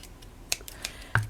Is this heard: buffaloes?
no